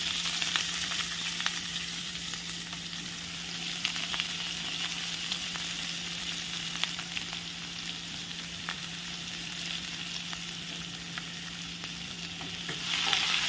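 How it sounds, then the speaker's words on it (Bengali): Chopped onion frying with garlic in a pan for paneer beans sabzi, a continuous moderate sizzle with sharp crackles and occasional stirring, no voices. "একটু লালচে লালচে ভাব এলে দিয়ে দেবো পেঁয়াজ কুচি।"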